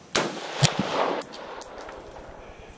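A .308 M1 Garand rifle with a Lothar Walther barrel fires outdoors: a sharp, loud crack followed by a rolling echo and a few lighter metallic clicks, with no voices.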